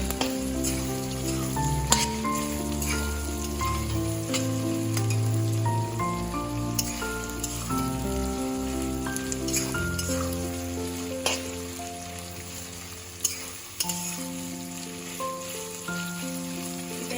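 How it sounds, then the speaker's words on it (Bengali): Chopped onion and garlic frying in a pan for a Bengali pumpkin-leaf chanchra, a steady sizzle running under music with harmonic tones throughout. "পেঁয়াজটা একটু ভাজা ভাজা হয়ে গেছে"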